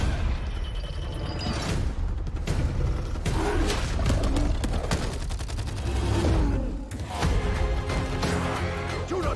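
Bursts of gunfire from a Black Ops 4 Zombies game trailer, rapid fusillades and mechanical clatter rising and falling over a dense cinematic score, loud and busy throughout.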